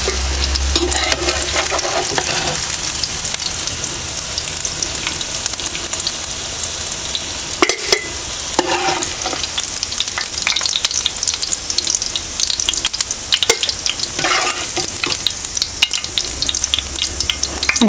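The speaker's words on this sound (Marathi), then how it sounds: "ह्याच पद्धतीने आपल्याला सगळं तळून घ्यायचं, तेलामध्ये परतून घ्यायचं" Potato and besan (gram flour) snack pieces frying in hot oil, a steady dense sizzle that continues throughout with occasional stirring clatter, loud and close with no talking.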